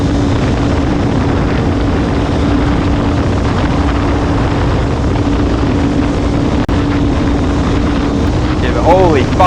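Heavy, constant wind roar buffets the microphone on a motorcycle ride through winding roads, loud and unbroken throughout, with a faint engine drone beneath and a brief wavering whine near the end.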